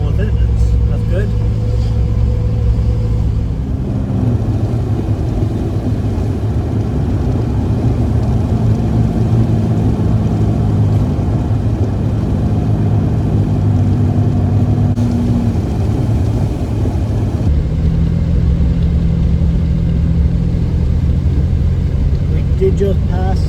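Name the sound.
Yukon SUV towing a camper, engine and road noise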